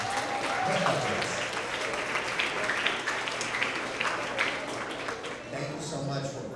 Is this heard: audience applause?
yes